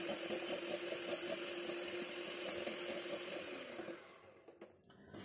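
An electric mixer beats egg batter with vanilla essence for coconut bread, a steady close whirring drone that runs for about four seconds, then cuts off into a few light clatters.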